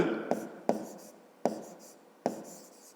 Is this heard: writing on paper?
yes